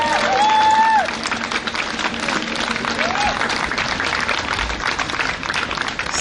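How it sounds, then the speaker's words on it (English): An audience at an inaugural festival event in Ann Arbor, Michigan, claps steadily, loud and dense throughout, with a brief whistle or cheer early on. "Let's give one more round of applause."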